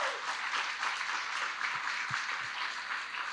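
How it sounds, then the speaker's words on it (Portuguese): An audience at a themed academic session on Brazilian popular architecture applauds, sustained broad clapping with a few sharper nearby claps standing out. "Uma salva de palmas para todos."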